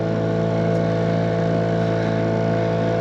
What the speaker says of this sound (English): I hope that you can hear me above the sounds of the engine.